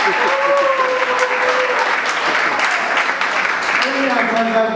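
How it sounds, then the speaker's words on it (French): Guests at a civil wedding ceremony applaud the veiled bride, a steady dense clapping that fills the room throughout, with voices and a few tonal calls or ululations rising above it. "Applaudissez pour elle."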